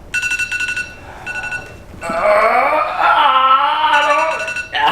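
Timer alarm going off in rapid electronic beeping bursts, followed by a louder stretch where the beeping sits under overlapping voices and laughter.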